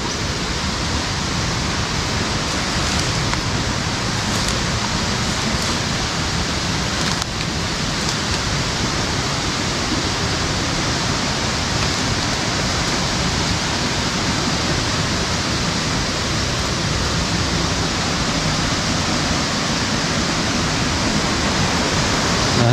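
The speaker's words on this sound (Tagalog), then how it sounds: "Ito pala ang sapa." Creek in a forest with large balete trees, a steady loud rushing of flowing water filling the whole stretch without pause, with no one talking.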